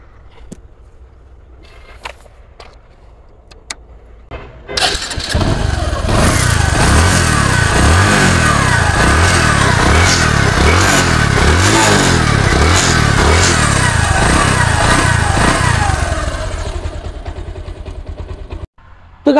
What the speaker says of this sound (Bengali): তো গাড়িটি আমরা সাউন্ড দেখে আসবো।